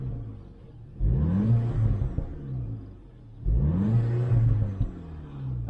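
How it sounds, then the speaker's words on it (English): A VW Polo GTI in sport mode revs twice, each rise in engine note followed by a drop back with exhaust burbles, close and loud with no talking. "Ooh, that's some burbles."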